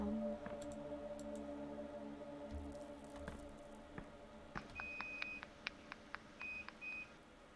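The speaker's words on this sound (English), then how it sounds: "Was it beeping? Yes. Was that your washer? That was probably my dryer." Electronic beeps from a clothes dryer in another room, a short series of thin high tones spaced over a few seconds, faint and distant above a steady room hum with no talking.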